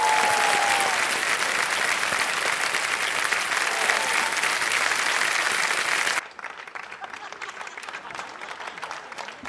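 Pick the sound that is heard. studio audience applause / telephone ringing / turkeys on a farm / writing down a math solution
studio audience applause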